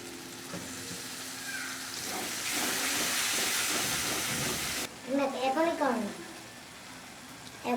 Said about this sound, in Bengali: এবার জল দিয়ে দিয়ে একটু কষিয়ে নেব